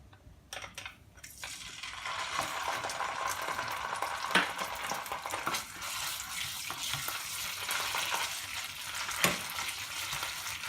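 Tomato puree sizzles and fries in hot oil for a Punjabi chana dish, a steady close crackle with a few sharp pops and occasional stirring scrapes, no talking.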